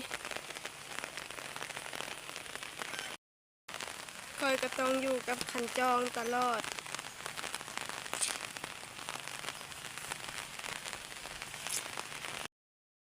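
Rain patters steadily on a surface, a constant hiss of drops, while a person talks and briefly sings over it.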